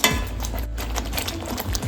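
Scraping and stirring in a pot as fried ginger is mixed in, a spoon moving steadily through food with soft knocks against the pan, no talking.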